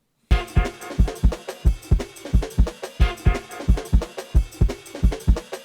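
Hip hop influenced avant-garde jazz track with heavy, evenly spaced bass thumps and dense layered tones pulsing in a steady beat throughout, loud and without talking.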